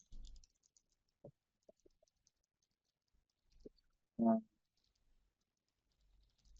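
A computer keyboard's arrow keys are tapped in a quiet room during a software demo, giving a few sparse, soft clicks spread across the stretch with one louder clack near the end.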